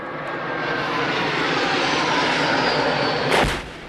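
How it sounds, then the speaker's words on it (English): Military jet aircraft passing over Kachin State near the Chinese border, a steady broad roar that builds and holds throughout, with a brief louder burst near the end, no voices. "these pictures clearly show jet planes being used against fighters from the Kachin Independence Army"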